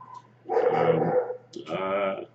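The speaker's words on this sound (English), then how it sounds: "They're my puppies." Puppies barking and yipping in two short bursts, close and fairly loud, with a brief pause between them and no talk over them.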